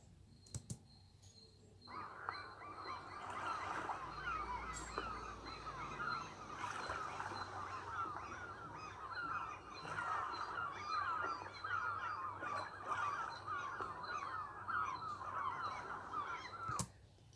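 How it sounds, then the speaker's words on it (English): A busy chorus of seagulls calls continuously, overlapping cries and squawks blending into a steady, rather faint flock sound, with a few sharp clicks at the edges. "It was the sound of seagulls."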